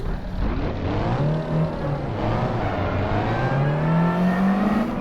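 Race car engine howling around a track, revving and shifting with rising and falling pitch, close and loud and steady throughout with no talk.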